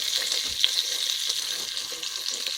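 Ingredients sizzle and fry steadily in a pan for Kachri Bateta, with a constant bright hiss and a few soft stirring scrapes, close and alone without talk.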